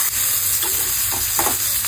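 Spine gourd sizzling in a simple tempering of mustard seeds, asafoetida, turmeric and sesame, a steady loud frying hiss with a few stirring scrapes and crackles throughout, no voices.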